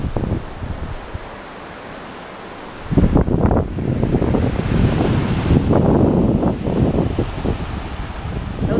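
Strong wind at a beach in Arraial do Cabo buffets the microphone in loud rushing gusts, mixed with surf, after a few quieter seconds at the start.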